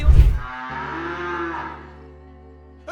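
A cartoon cow lets out a long, loud, drawn-out moo, starting with a rough burst and then holding a steady tone until it trails off, with a brief sound at the very end.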